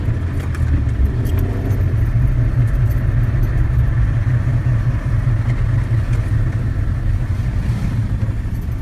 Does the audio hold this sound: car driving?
yes